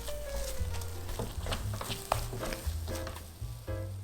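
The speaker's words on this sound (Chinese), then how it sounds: "这一步就要持续的不断翻炒，" Grape mooncake filling is stir-fried continuously in a pan to drive off moisture, with a soft sizzle beneath irregular scraping and clacking stirring strokes, close by and without speech.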